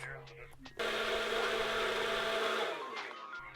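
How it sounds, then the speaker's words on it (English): A blender whips a sauce, whirring loudly for a couple of seconds, starting abruptly after a brief quiet moment and then cutting off, leaving a soft voice around it. "began to whip it away in the blender"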